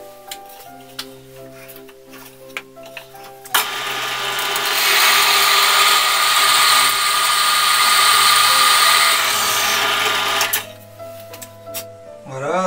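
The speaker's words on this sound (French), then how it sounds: "déjà je perce un trou là, je vais en faire un autre à côté" A drill bores holes into cherry wood, running as one continuous whirring, buzzing stretch of about seven seconds between quieter passages of talk and handling clicks.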